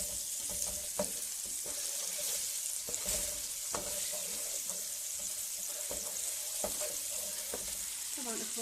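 Butter sizzles steadily in a hot pan while the golden mixture for an apple cinnamon cake is stirred, with scattered clicks and scrapes of the utensil over the constant frying hiss.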